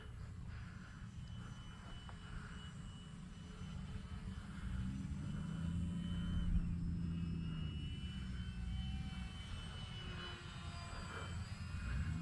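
An FMS T-28 Trojan RC model airplane with an 800 mm wingspan flies at Avon Park Field, its electric motor giving a steady buzzing drone that swells a little as it passes mid-flight, heard outdoors at a moderate distance with no talking.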